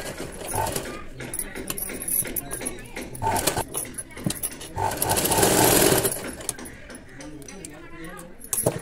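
Sewing machine running close by, stitching thread piping onto a square neckline, its rapid mechanical whir coming in uneven bursts with brief pauses, under a steady background of other noise.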